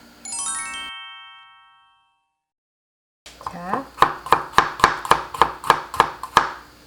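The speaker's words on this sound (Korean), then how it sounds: "마늘 다져주시고요." Garlic is minced with a knife on a cutting board: about ten sharp, evenly spaced chops, close and crisp, following a short bright chime and a moment of silence.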